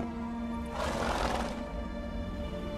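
Roach, Geralt's horse in The Witcher, lets out a single bright whinny about half a second long over a quiet, steady game ambience.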